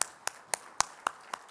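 Church congregation claps in a slow, even rhythm, six distinct claps spaced about a quarter second apart, moderately faint in a quiet room with no talking.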